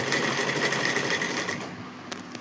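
A sewing machine runs a straight seam with a half-inch margin on fabric, a steady close whir that stops near the end of the clip.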